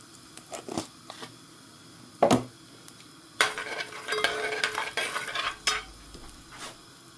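Cumin seeds and hing hit hot oil in a pan, starting with a few utensil clinks and then breaking into a crackling, spitting sizzle that comes in bursts close by.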